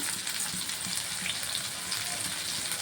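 Shallots, dried red chillies, tamarind and a little rock salt sauté in oil for a chutney, making a continuous close, even hiss of frying with no voices.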